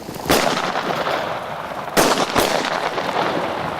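Shotgun blasts during a quail hunt in open country, three loud sharp shots close by, one alone and then two in quick succession, with faint outdoor background between them.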